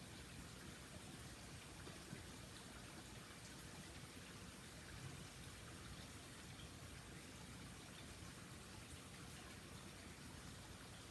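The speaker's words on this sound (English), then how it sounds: "Hopefully you can hear the waterfall in the background" A faint, steady rush of falling water, continuous and even, heard from some distance with no other sounds.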